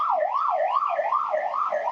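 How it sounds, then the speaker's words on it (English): An ambulance siren wails nearby in a Madrid street, a loud rising-and-falling tone that repeats about every half second, steady throughout with no voices over it. "ambulance screaming by."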